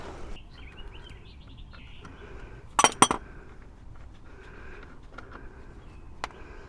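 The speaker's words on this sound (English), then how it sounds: "Just get my normal wrench in here." A wrench works loose the stabilizer link nut on a 2009 Ford Ranger's front right suspension, giving a brief cluster of sharp metallic clinks near the middle and a single faint tick later, over quiet workshop background.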